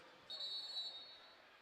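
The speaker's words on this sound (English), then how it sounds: "the whistle stops the play" A referee's whistle blows during an indoor soccer match between the Kansas City Comets and St. Louis Ambush, a sustained shrill tone lasting under a second over steady crowd noise in the arena.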